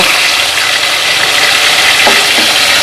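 Chicken pieces frying in hot oil in a pot over a high flame make a loud, steady, close sizzle that stays constant throughout, with no talking.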